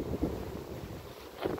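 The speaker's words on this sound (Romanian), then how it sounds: "iată, a început un pic de vânt" A light wind blows outdoors at an apiary where pollen is being collected, making a steady low rumble and buffeting across the microphone with no other sounds.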